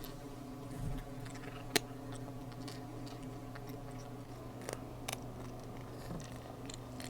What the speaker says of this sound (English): A little bit of kitty ASMR.